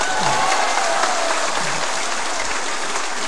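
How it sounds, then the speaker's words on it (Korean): Steady, dense crowd applause fills a Korean political book-launch event, loud and continuous throughout with a faint murmur of voices underneath. "박수 한번 하세요"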